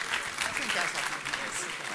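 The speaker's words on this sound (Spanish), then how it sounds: "le recibimos con un fuerte aplauso" Church congregation applauding a guest speaker at a general meeting, a dense, even burst of clapping from many hands filling the whole moment, with no speech over it.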